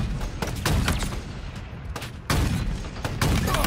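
DMR rifle fire in the video game Halo Infinite cracks in loud, closely spaced shots among explosive bursts and chaotic battle noise.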